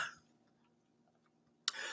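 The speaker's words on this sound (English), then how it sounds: "I thought my cough was done." A man coughs, with a short burst at the start and another sharp one near the end, separated by a stretch of quiet room tone.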